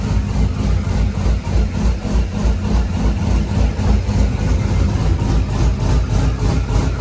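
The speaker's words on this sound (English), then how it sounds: "Let's see if she's gonna get a idle." A Corvette's swapped-in engine idles loud and near, a steady, heavy, lumpy rumble that shakes hard and never settles.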